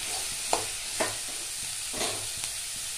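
Chopped chow chow sizzles in a frying pan while a spatula stirs it, producing about four distinct scraping strokes spaced roughly half a second apart over a continuous hiss.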